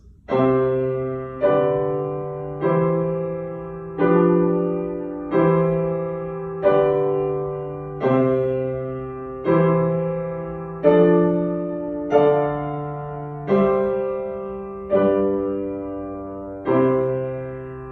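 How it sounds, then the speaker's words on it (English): A piano across the room plays a slow sequence of single notes, each struck and left to ring and decay, about a dozen in all, heard with some room distance. "I'm gonna go play it on a piano across the room"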